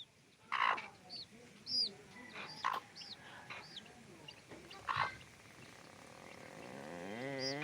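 Chickens clucking in short separate bursts, several calls fairly near and moderately loud over a quiet outdoor background, with faint voices.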